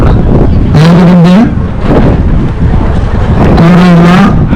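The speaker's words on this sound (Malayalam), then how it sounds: "നല്ല കാറ്റ് അനുഭവപ്പെടുന്നുണ്ട്" Strong wind buffets the microphone at Ponmudi hill, a loud continuous roar with gusty swells, and faint tonal hums rising briefly twice beneath it.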